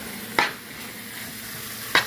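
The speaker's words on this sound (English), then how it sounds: "Let's put some onions in there." Onions stirred in a hot pan for beef stroganoff, a steady close sizzle broken by two sharp scraping strokes of the spoon against the pan.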